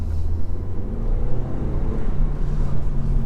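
Seat Leon FR hot hatch engine and exhaust heard from inside while driving, a steady low droning rumble with road and wind noise, no speech.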